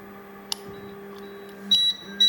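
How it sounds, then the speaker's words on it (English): A resin 3D printer gives two short high electronic beeps near the end over a steady mechanical hum, with a faint click earlier. "it's going to start beeping at me"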